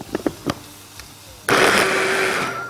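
A few light knocks and taps come first, then an electric blender starts with a sudden loud whir, mincing roasted garlic with lemon for a zucchini dip, and runs steadily to the end.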